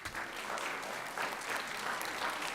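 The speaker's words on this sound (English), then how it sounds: "Can we give them a round of applause?" An audience at a county commission meeting applauds, a steady even patter of many hands clapping at moderate distance throughout, with no speech.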